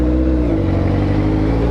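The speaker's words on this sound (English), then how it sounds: "I'm so glad I spent the money I spent on this exhaust." A motorcycle with an aftermarket exhaust revs close by, a deep, throaty engine note holding steady and loud for a brief moment.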